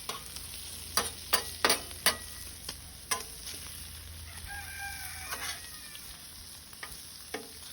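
Bacon frying in hot grease, a continuous sizzle broken by several sharp clanks and scrapes of a utensil against the pan, with a rooster crowing in the background.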